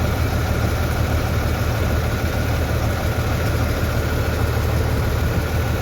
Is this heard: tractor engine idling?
yes